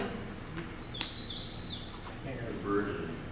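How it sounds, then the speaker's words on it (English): A few quick, high chirps from a small bird, faint against a quiet room with low background noise. "There's a bird in here?"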